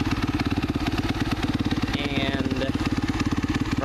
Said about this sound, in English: That was a cold start without the idle up on it